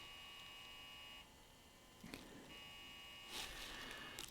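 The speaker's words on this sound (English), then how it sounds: "I'm hearing a buzzer." An NCR 3220 machine just powered on gives off a steady electrical buzz and hum with tonal lines, briefly dipping, then a couple of sharper clicks and a louder burst near the end, with no talk.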